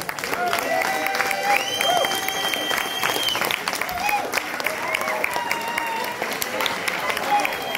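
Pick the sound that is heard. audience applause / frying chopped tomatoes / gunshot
audience applause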